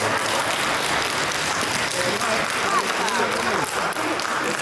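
Warm, sustained applause rises from wedding guests right after the couple's kiss, a dense, even wash of many hands clapping in a hall, with voices murmuring underneath.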